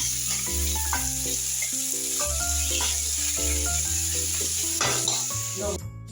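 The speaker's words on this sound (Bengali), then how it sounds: "পেঁয়াজ কুচি দিলাম। এটা আমি ভালো করে ভেজে নিব।" Chopped onion with bay leaf sizzles in hot oil in a pan, a steady close frying hiss that runs beneath melodic background music throughout.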